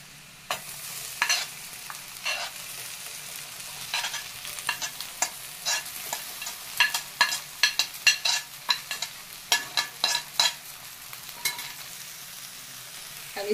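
Peas frying and being stirred in a pan for a gujiya filling, a soft steady sizzle punctuated by frequent sharp spatula scrapes and clinks in an irregular rhythm, close and clear with no talking.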